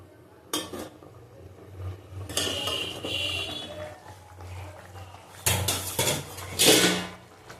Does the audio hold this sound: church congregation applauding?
no